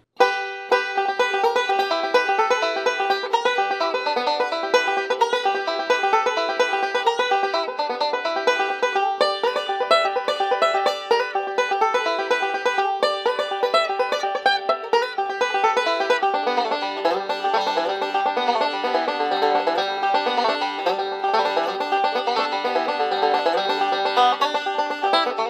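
A bluegrass banjo plays Sally Goodin, with bright, rapid rolling picks and ringing notes running continuously and up close, without any talk.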